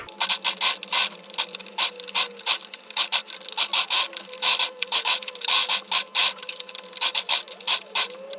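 Sewing machine stitching along a dress neckline, a busy run of rapid needle clatter in repeated bursts with brief pauses, close and fairly loud, no voices.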